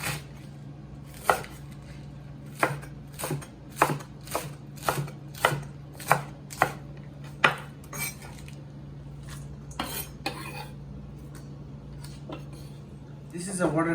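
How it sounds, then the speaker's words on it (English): Knife chopping romaine heart, watercress and iceberg lettuce into small dice on a cutting board for a keto Cobb salad: a steady run of crisp, evenly spaced cuts, close and fairly loud over a low kitchen hum, thinning out toward the end. "I'm going to cut romaine heart, watercress,"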